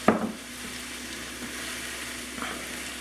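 Enchilada sauce with chicken simmering in a pan on the stove gives a steady, soft sizzle, with a brief louder clatter of stirring at the start and another faint stir near the end.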